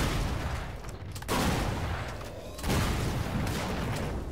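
Gunfire in Killing Floor 2: two bursts of loud, rapid shots, the second volley starting after a short gap, each trailing into a rumbling wash, with no talk over them.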